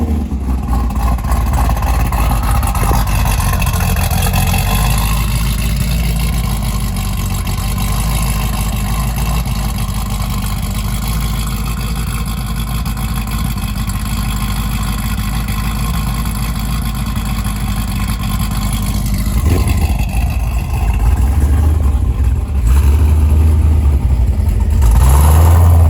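Supercharged 6th gen Chevrolet Camaro ZL1 engine, a loud, deep steady idle rumble held close for a long stretch, rising into louder revs and throttle blips near the end.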